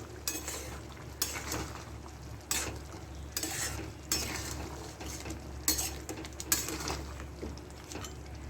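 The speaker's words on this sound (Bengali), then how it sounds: "গাওয়া ঘি এক চামচি দিয়ে দিলাম করে নেড়ে দিলাম" A spoon scrapes and stirs ghee into red lentil dal with fish head in a pan, several distinct clinks and scrapes repeating steadily against the metal, close and fairly quiet under a low background hum.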